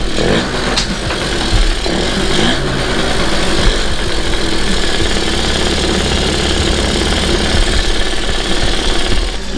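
A Yamaha Zuma 50F scooter's two-stroke 50cc engine runs steadily on its factory gas tank, a loud, close, continuous buzzing rattle with no pauses.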